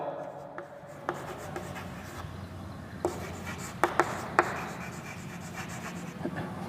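A pen writes steadily during a maths lesson, making faint continuous scratching with a few sharper taps over a low room hum.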